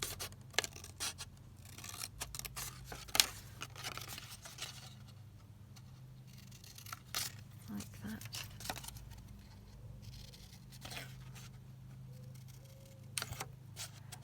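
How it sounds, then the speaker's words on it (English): Scissors snipping into the roofs of a row of paper beach hut cut-outs, with a series of short crisp cuts and paper rustling, close and quiet, and no voice heard. "So again, just snipping into those roofs."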